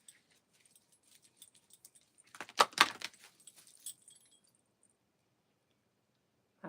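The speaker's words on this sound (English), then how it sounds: "shuffle the cards" Tarot cards being shuffled in a quick riffling burst of crisp papery clicks, close and fairly quiet, with near silence before and after.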